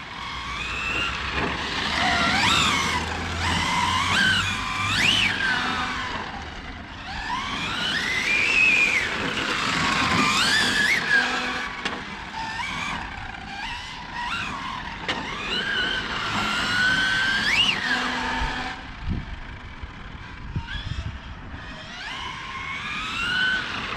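An Arrma Felony RC car with a Hobbywing Max6 1650kV motor on 8S warms its tires on a track: loud, high electric whines rise and fall in repeated sweeps, with brief tire skids and no talk.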